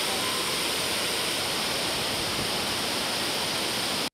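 The Burkhan-Bulak waterfall roars as a dense, continuous broadband rush of falling water, loud and steady throughout before cutting off abruptly at the end.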